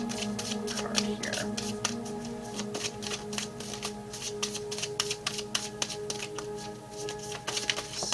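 Oracle cards are shuffled in quick, close riffling bursts and flicks, a steady papery rustle with a faint voice talking underneath.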